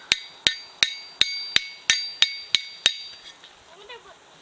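Blacksmith hammer striking red-hot metal on an anvil, eight or nine sharp ringing blows in a steady rhythm about every third of a second, then the ringing fades out. Loud and close, with no talk.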